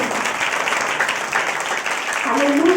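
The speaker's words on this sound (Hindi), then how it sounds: "ताली बजा के उसका महिमा दो।" A church congregation at a Hindi sermon claps in praise, a steady dense wash of applause filling the whole stretch, with a voice rising over it near the end.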